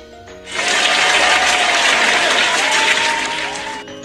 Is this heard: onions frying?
no